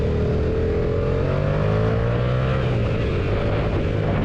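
Kawasaki Z650 motorcycle engine revving and pulling through the gears, a steady close engine drone with rising tonal sweeps and constant wind rush.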